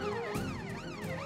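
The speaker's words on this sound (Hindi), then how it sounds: "पुलिस की सायरन की आवाज है" A police siren wails, rising and falling in smooth repeating sweeps, loud and steady, with no voices.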